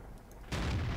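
A single deep, booming tank cannon blast from World of Tanks, fired by a T-34-1 medium tank, hits suddenly and rumbles on, loud and close.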